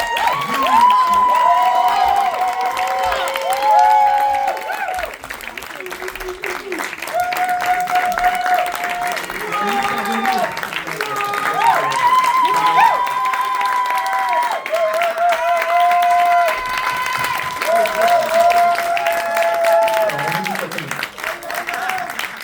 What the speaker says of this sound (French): Je vais vous demander d'accueillir tout de suite, avec un tonnerre d'applaudissements, Alban Lenoir, Sonia Chaïti